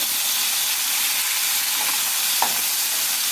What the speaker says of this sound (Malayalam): ഇത് ഇച്ചിരി സോഫ്റ്റ് ആവുന്ന വരെ നമുക്ക് ഫ്രൈ ചെയ്തെടുക്കണം തക്കാളിക്ക.